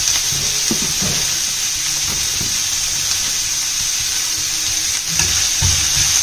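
Four chilies hitting hot oil in a pan while cooking paneer tikka masala, a steady loud sizzle and hiss with a few sharper crackles and stirring bumps, no voices.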